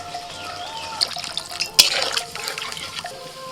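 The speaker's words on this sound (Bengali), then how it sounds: "এবার একটু জল দিয়ে দিচ্ছি" Water splashes and trickles into a pan of frying spices, with a sharp clatter midway and a faint sizzle underneath.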